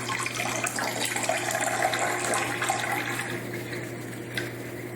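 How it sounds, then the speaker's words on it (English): Water runs steadily from a GFO and carbon reactor chamber in an aquarium setup, a continuous close splashing flow over a low mechanical hum. "Chamber here is filled up already, so water's starting to come out."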